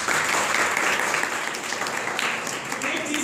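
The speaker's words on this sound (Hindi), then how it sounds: "इसलिए आपके लिए ताली बजाऊं" Audience clapping for students at a talk on positive attitude, a dense burst of applause that holds steady for a few seconds, fairly close and loud.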